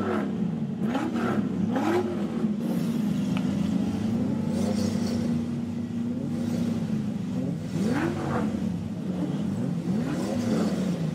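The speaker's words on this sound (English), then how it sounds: "You hear the sound of the motors all around. You hear the cars coming out of the speakers." Car engines rev steadily, several rising and falling whines sweeping past one after another over a continuous motor drone.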